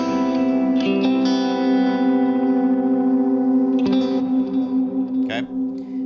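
Sustained Fender Stratocaster electric guitar chords, bridge and middle pickups, ringing out with heavy dotted-eighth delay and reverb, notes smearing into a lush wash with a few picked accents.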